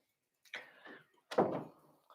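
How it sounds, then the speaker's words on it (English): A door is pushed shut in a quiet room, giving two short bursts of rattling and knocking about a second apart, fairly close with no talk. "I'm praying I gotta go shut this door"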